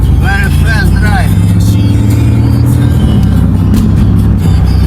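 A BMW X3 M40i drives fast, its steady engine and road drone filling the cabin continuously, with voices chatting over the top early on.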